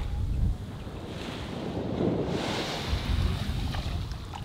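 Surf rolls steadily onto a black sand beach on Cijin Island, Taiwan, a continuous near wash of breaking waves mixed with gusting wind buffeting the microphone, with no voices.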